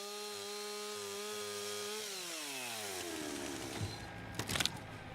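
A powered saw cuts through roof decking beside a joist during a vertical ventilation exercise, its engine holding a steady high whine before the pitch sags and drops under load, then ending with a brief rough crackle.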